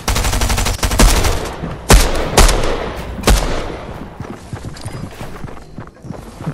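Gunfire from a gun in Fortnite during a trios match: several sharp, loud shots at uneven intervals, a burst near the start and single cracks around the middle, over busy game ambience.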